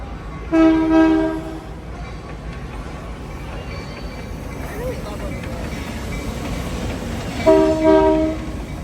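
A train rumbles past with wheels clattering, and its horn sounds twice, once near the start and again near the end.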